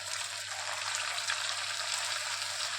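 Chicken leg pieces fry in hot oil in a pan, giving a steady, close hiss and crackle that holds level throughout. No voices are heard.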